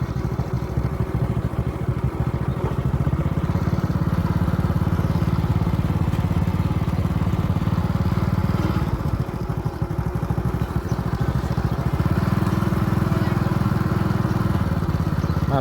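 A motorcycle rides around a rural village in Savannakhet province, Laos, its engine droning steadily and loudly up close with rattling clatter throughout.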